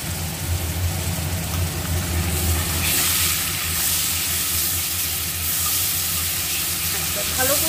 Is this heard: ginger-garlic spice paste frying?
yes